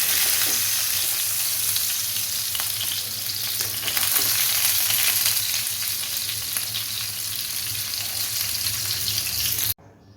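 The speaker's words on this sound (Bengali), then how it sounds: "মিডিয়াম ফ্লেমে মাছগুলো সুন্দর করে ভেজে নেব" Koi fish fry in hot oil over a medium flame, giving a loud, steady, dense sizzle that runs continuously for about ten seconds before cutting off abruptly.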